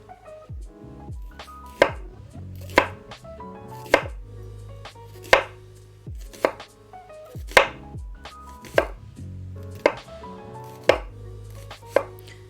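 A knife chops peeled onions on a board in steady, evenly spaced strikes, about one every second, each a sharp, close knock with a faint kitchen hum underneath.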